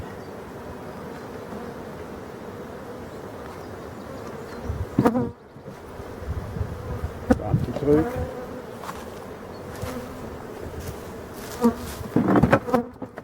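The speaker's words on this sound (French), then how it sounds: "Quelques abeilles là." Honeybees hum steadily close by in a continuous drone around an open hive, with sharper buzzes as individual bees fly near. A brief bit of speech occurs.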